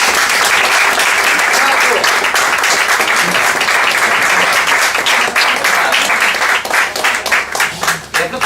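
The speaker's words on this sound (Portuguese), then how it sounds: "Uma grande salva de palmas ao querido Paulo Vasco" An audience at a tribute evening breaks into loud, sustained applause that fills the room, then thins out toward the end as individual claps become distinct.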